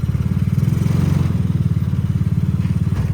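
A 125cc mini jeep engine with an aftermarket-style air filter runs steadily nearby, a loud, even, chugging low drone with a rapid regular pulse throughout.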